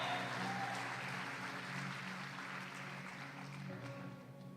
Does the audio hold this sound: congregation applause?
yes